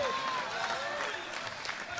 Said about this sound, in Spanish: A ver cuántos le aplauden a Jesús